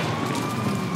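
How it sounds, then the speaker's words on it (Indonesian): A fire engine siren wails continuously and loud in Grand Theft Auto 5, a short steady burst with no speech. "Wah, ini ada pemadam kebakaran kan yang datang."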